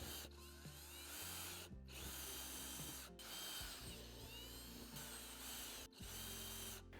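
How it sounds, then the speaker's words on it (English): A power drill with a 1/4 inch bit whirs in several bursts, boring holes with brief pauses between runs, close and steady. "I'm just going to use a 1/4 inch drill bit to drill these holes out."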